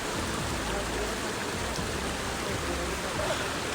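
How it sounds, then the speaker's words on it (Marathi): A babbling forest stream on a monsoon trek from Panhala to Pavankhind rushes with a steady, dense wash of water noise, close and continuous, with no voices. "असा सुंदर असा ओढा, पाण्याचा खळखळाट"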